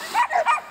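A young dog in a puppy training session gives three quick, high-pitched yelping barks in close succession, close to the microphone.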